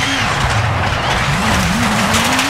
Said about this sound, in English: Nailing a handbrake turn is extremely satisfying